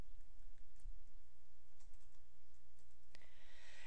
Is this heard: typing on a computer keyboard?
yes